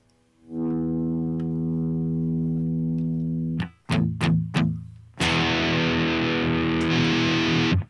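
Electric guitar, a Squier Mustang played through an Amplifi FX100, with a long sustained chord, several sharp plucked stabs, then a loud distorted strummed chord ringing out.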